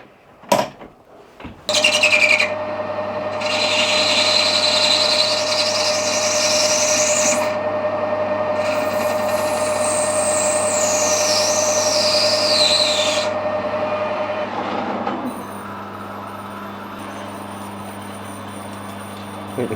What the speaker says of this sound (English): We'll machine the end square, and then we can turn it down to the right size